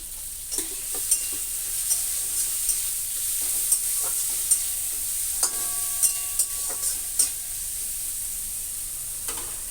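Ingredients for a potato egg curry fry in a pan with a steady bright sizzle, broken by regular light scrapes and taps of a spatula stirring, with no voices.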